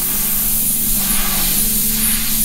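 Steady airbrush spray hissing continuously as paint is applied to a graffiti-style hat, a close, even airy rush with a faint low hum beneath and no talking.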